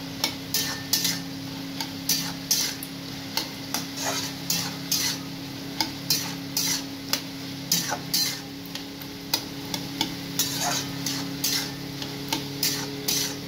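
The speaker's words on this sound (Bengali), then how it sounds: "লঙ্কা ফাটিয়ে দিলাম, এটাকে আমি নাড়াবো" A spoon or spatula stirs green chilies frying in a pan, giving steady rhythmic scrapes and taps over a soft, continuous sizzle and a low hum.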